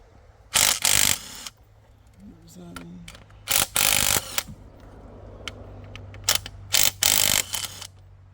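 The engine of a 1958 Chevrolet Biscayne, parked for over 40 years, is cranked over in repeated short bursts, each a loud, dry mechanical grinding and ratcheting close by, separated by pauses with faint clicks and low hum.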